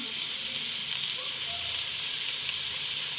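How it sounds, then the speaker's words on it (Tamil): Sliced onions with curry chillies and green chillies frying in hot oil for Sri Lankan kottu roti, a steady dense sizzle that stays loud and close throughout, with faint stirring underneath. "எண்ணெய் சூடாகிட்டு வெங்காயத்தை போடுவோம் அதோடு சேர்த்து கறி மிளகாயும் பச்சை மிளகாயும் போடுவோம்"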